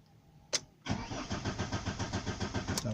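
A Fiat Stilo with its crankshaft position sensor unplugged, turning over on the starter without firing: a brief click, then steady rhythmic cranking pulses lasting about two seconds, close and fairly loud, with no voices.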